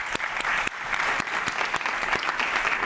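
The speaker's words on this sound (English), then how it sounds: "Let's give a round of applause." Conference audience gives a panel a steady round of applause, dense clapping, fairly close and unbroken for a few seconds, with no talking over it.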